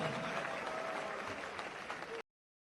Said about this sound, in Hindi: जोरदार तालियां इस बच्ची के लिए प्लीज